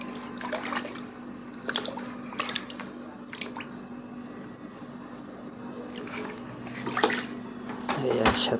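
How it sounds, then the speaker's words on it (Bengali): Large Chandpur hilsa fish, about two kilograms each, are rinsed by hand in cold water, giving wet squishing and splashing bursts that come and go over a steady background hum. "সবগুলোকে একটু ওয়াশ করে নিই ঠান্ডা পানি দিয়ে"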